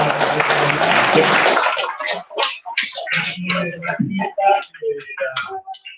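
A lecture audience at an archaeology talk gives a short burst of dense clapping that stops after about two seconds, followed by close talking.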